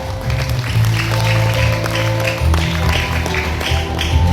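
An audience claps in applause at a live stage event, a steady dense patter of many hands held over a low musical hum for several seconds.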